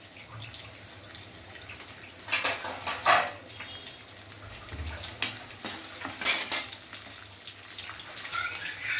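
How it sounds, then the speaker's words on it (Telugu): Onion and green chillies stirred in a pan for jackfruit biryani, with scraping utensil knocks and clatters in irregular bursts over a low steady background, fairly close and moderately loud. "వేసి బాగా వేగనివ్వాలి."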